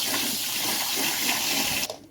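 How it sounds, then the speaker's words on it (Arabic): Kitchen tap running water into a bowl while preparing a lemon, salt and flour soak for beef trotters; a steady, loud rushing gush that cuts off abruptly near the end. "وهحط مية بقى من الحنفية"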